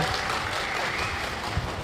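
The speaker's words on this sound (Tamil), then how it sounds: "இதுக்காக அம்பேத்கருக்கு கைத்தட்டுங்க" Audience applause at a Tamil motivational talk, a steady dense clapping that fills the short stretch evenly without a break, with no voices over it.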